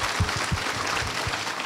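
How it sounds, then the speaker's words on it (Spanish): Audience applause, a dense hiss of many hands clapping with a few low bumps, steady and moderately loud for a short stretch. "Señores, un aplauso a mi esposa, Beatriz."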